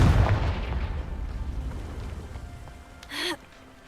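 A Confringo blasting spell explosion in Hogwarts Legacy: a loud deep boom at the start decaying into a long rumbling tail, followed by a brief exclamation.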